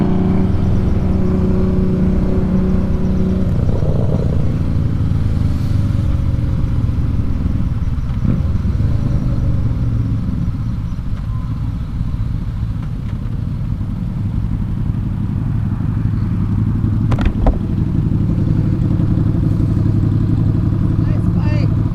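A new 2019 Honda CB500X motorcycle engine rumbles nearby at idle and at low revs, with its exhaust giving a loud, continuous low drone and a slight rise midway. Voices talk over it.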